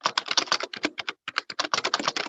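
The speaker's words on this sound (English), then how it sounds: "I can hear clicking, so please mute yourself." Rapid, steady keyboard clicking from an unmuted participant on a group call, close and fairly loud, with dense bursts of keystrokes and only a brief pause partway through.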